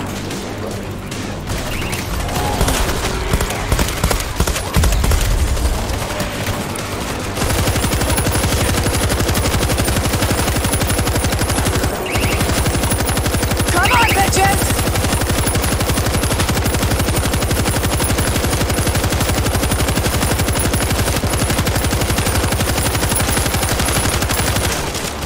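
A .50 cal machine gun in the World War Z zombie shooter game fires in long sustained bursts, dense rapid rattling that runs loud and nearly continuous with heavy booming impacts and chaotic game noise underneath.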